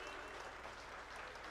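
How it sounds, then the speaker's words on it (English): Audience applause greeting the chief guest, a science and technology minister, at a Central Electronics Limited ceremony, a steady dense patter of many hands that is fairly faint and even throughout. "extend a warm welcome with a big round of applause to our chief guest"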